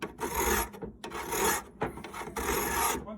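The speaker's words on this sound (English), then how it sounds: "you can take a file, and you need to file off about 1/16 of an inch" A hand file rasps back and forth across a metal part from a Cannon safe lock, four close, distinct scraping strokes separated by short pauses.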